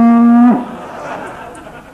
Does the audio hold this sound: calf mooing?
yes